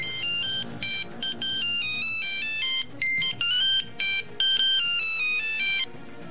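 Mobile phone ringtone playing a bright, repeating electronic melody of short high notes in rhythmic bursts, loud and close, over a soft background hum.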